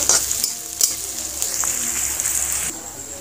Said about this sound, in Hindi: प्याज हमारा अब भून रहा है, सुनहरा होने तक भूनेंगे।